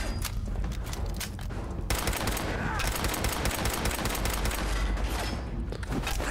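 Dense rapid gunfire in the video game Fallout 4, sustained bursts of shots filling the whole stretch, loud and continuous with a brief shift in intensity partway through.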